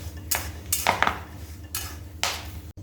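Green chillies roasting in salt in a pan for thecha are stirred with a utensil, giving several distinct scraping and clinking strokes against the metal over a low steady background.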